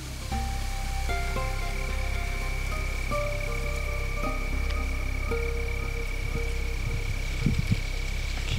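Steady rain falls outdoors in a wooded hunting area, a constant hiss of drops with faint tonal hums and a few brief knocks near the end, no talking.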